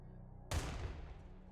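A single heavy video-game gunshot blast with a camera-shake effect bursts in abruptly and decays into a booming low rumble over an otherwise quiet background hum.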